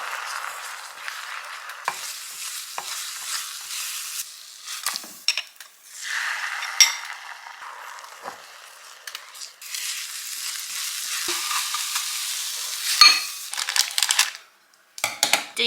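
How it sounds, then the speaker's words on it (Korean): Eggs being scrambled in a cheap, flimsy frying pan, with a steady soft sizzle and frequent scraping and stirring of the pan throughout, close and moderately loud. "팬이 지금 이런 허접한 것밖에 없어서 그냥 스크램블 할게요."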